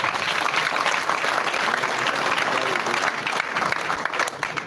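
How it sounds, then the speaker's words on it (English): Loud, dense applause from a crowd at a political party press conference, a continuous roar of many hands clapping at close range with no gaps. "give a thunderous hand clap to our parliamentary team"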